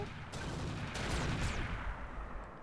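Mech weapons volley in the video game RogueTech, a dense barrage of overlapping booming shots and whooshing launches fired together, loud and continuous for a couple of seconds.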